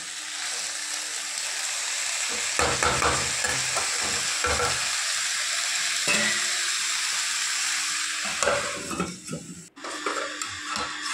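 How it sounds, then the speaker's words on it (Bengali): Cabbage and fish-head curry with potatoes and spices stirred in a pan: a continuous frying sizzle under repeated scraping strokes of a utensil, with a few clanks of the pot. "ঢাকাটা খুলে নিয়ে আবার তরকারিটাকে ভালোভাবে আবার আরেকবার নেড়ে দিলাম"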